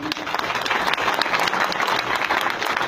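A crowd at a business celebration event claps steadily and loudly, a dense wash of applause filling the whole stretch without pause.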